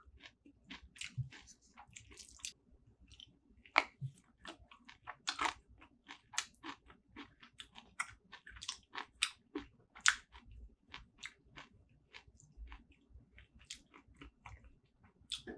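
Close-up chewing of curry with Sylvie kimchi at a home meal: wet, crunchy bites and steady mastication in an irregular rhythm, quiet and intimate with no talking.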